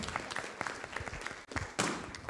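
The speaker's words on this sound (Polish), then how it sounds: "Wielkie brawa dla Pauliny" A quiz show studio audience breaks into applause, a steady wash of clapping for a couple of seconds at moderate level, swelling briefly near the end.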